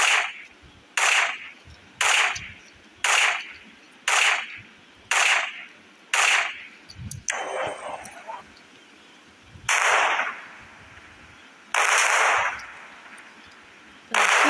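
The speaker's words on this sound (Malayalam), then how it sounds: "നമ്മൾക്കിത് ബ്ലാസ്റ്റ് ചെയ്യുന്നുള്ളൂ." Firecrackers go off in a rapid series of sharp, loud blasts, about a dozen evenly spaced bangs each with a hissing crackle, close by, ending with a few longer crackling bursts.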